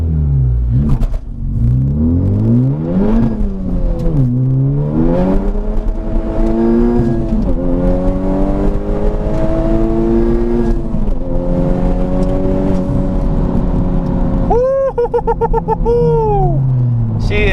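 A turbocharged Honda Civic Type R (FK8) revs hard under about 31 psi of boost, climbing steadily through the gears, loud and close, ending with a sharp fluttering whoosh as the throttle lifts.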